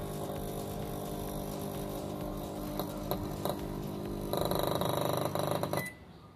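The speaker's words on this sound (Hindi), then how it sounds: "मैग्नेट्रॉन में से स्पार्किंग की आवाज़ आनी चालू हो जाएगी" A microwave oven's steady electrical hum with faint scattered snaps from a sparking magnetron, then a stretch of rapid crackling ticks before the hum drops off.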